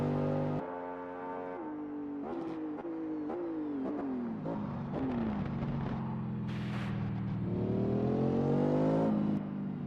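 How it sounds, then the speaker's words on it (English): Race car engine in a Le Mans endurance racing video game, roaring loudly and continuously with repeated rising revs and gear shifts, the pitch climbing and dropping as it runs back toward pit lane. "Listen to the roar of Daniel's car, bringing it back to pit lane"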